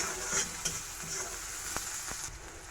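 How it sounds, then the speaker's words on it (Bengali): Onion and green chilies sizzle in hot oil while being stirred for a Bengali small-fish curry, a steady close frying hiss broken by a few scraping strokes of the spoon. "তেলটা গরম হয়ে গেছে দিয়ে দিচ্ছি পেঁয়াজ আর কাঁচামরিচ একসাথে দিয়ে ভালো করে একটু নাড়িয়ে নেব"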